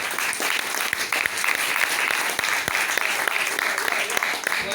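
A church congregation applauds steadily throughout, a dense wash of many hands clapping with a few sharper individual claps standing out, no voices emerging above it.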